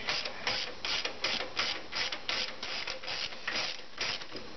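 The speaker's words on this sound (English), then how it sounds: "All you gotta do is there's a nut right here in the middle. Just back these off all the way." Ratchet backing off nuts on the cylinder of a 1999–2001 Jeep Cherokee XJ, a steady run of quick close mechanical clicks repeating in an even rhythm for several seconds with no talk.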